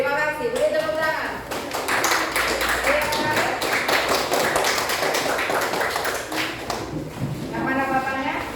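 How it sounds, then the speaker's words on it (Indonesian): Students in a primary school coding class clap together in a steady round of applause lasting several seconds, with a voice speaking at the start and again at the end. "Beri tepuk tangan."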